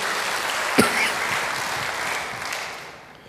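Church congregation applauding during a sermon, a sustained wash of clapping that starts with a sharp hit, holds steady, then gradually fades out, with no speech over it.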